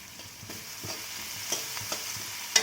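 Curry leaves sautéing in a hot pan, a continuous close sizzle broken by a few light stirring scrapes and one sharp tap near the end.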